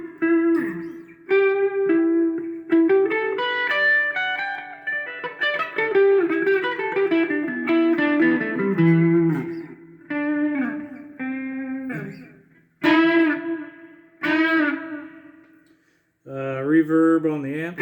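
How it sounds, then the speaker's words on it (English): Electric guitar plays a series of notes and chords, each ringing out with repeating echoes that trail off between phrases. "Throw some echo in there."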